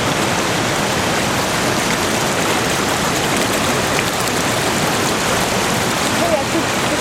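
Waterfall in full autumn flow, a steady, dense roar of rushing water that stays loud and unbroken throughout, close by and filling the whole sound.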